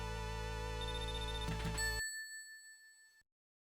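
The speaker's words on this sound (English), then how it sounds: "Sorry you guys have to hear that drowning music for a bit" Sonic the Hedgehog's drowning countdown music from the Labyrinth Zone plays as loud, bright chiptune tones with rapid bell-like notes, then cuts off sharply, leaving a short fading tone before silence.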